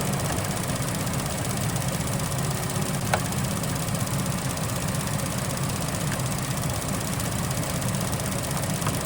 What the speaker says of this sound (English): Just hear that fan running again.